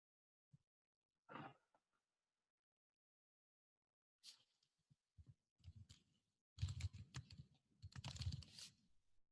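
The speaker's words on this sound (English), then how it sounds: "Bring this over to my lap so I can type a little bit better." Quiet typing on a laptop keyboard resting on a lap: a few isolated taps at first, then short runs of soft clicking that grow into quicker, denser keystrokes near the end, close up and otherwise silent.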